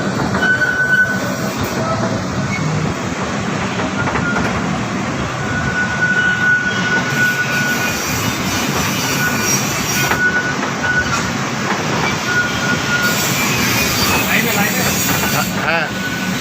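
An amusement park railway train ride at Fantasy Kingdom rumbles steadily close by, with rolling wheels, rail noise and a thin squeal persisting throughout, while people talk quietly underneath.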